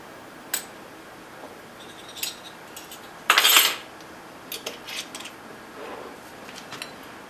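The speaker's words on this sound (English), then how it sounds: "And you just stir it all together." A spoon clinks and scrapes around a bowl while chocolate icing with vanilla is stirred, giving irregular light taps and one louder rattling scrape partway through, with no one talking.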